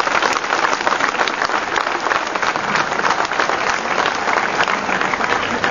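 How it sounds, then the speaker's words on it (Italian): A crowd at an Italian political thank-you rally applauds a candidate, dense, loud, continuous clapping throughout with no voices over it. "chiedo un applauso al candidato Moro"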